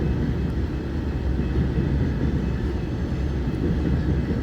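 A southbound BNSF unit train, likely loaded with grain, rolls past on the Sioux City sub in Fremont, Nebraska, a steady, close, heavy low rumble that holds constant throughout without any voices.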